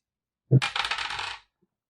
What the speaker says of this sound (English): I'm gonna roll these two dice again.